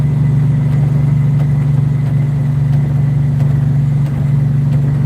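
A Plymouth Barracuda's engine runs with a loud, steady low rumble and a deep throb, idling evenly throughout with no talk.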